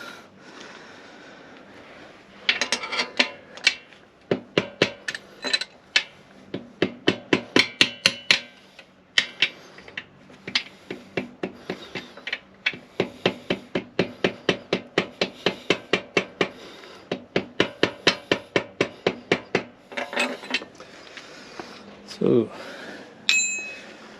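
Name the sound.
hammering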